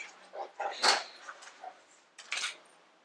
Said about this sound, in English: apologize for the whining. It's my dog in the background.